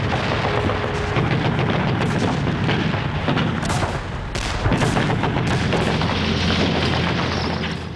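Sustained gunfire and artillery during the WWII Gold Beach landing: a dense, continuous roar of booms and crackling shots, loud and unbroken throughout, with no talking.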